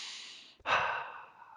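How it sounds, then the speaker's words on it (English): A single slow nasal breath. A soft inhale through the nose is followed by a fuller, close exhale out through the nose, quiet and relaxed, with no talking. "In through your nose and out through the nose."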